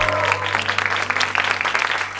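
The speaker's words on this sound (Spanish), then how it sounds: "¡Aplauso para el muchacho, por favor!" Studio audience clapping for a male singing contestant on a television show, a brisk, steady patter of many hands over a low, constant hum, with some speech mixed in.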